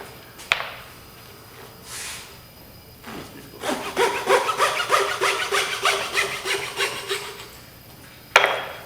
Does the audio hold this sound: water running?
no